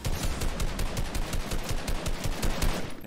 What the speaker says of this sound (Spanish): Espérate, que alguien te ha disparado.